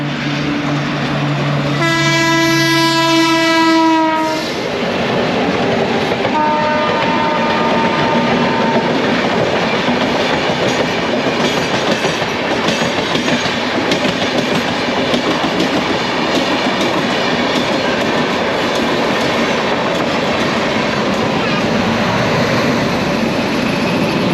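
Uttaranchal Sampark Kranti Express runs through Sahibabad railway station without stopping. Two loud horn blasts open the passage, then the wheels clatter and the cars rumble past steadily and close by.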